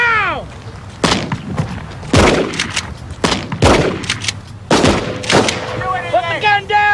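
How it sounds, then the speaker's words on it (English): Several loud gunshots ring out in sequence during a police shootout with a shotgun-armed suspect, sharp close cracks spaced about a second apart with ringing tails and shouting between them. "shots fired"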